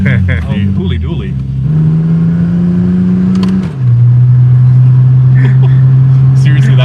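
A car fitted with a stall converter accelerating, its engine drone holding steady then stepping in pitch as it changes gears, loud and close, with people talking and exclaiming over it.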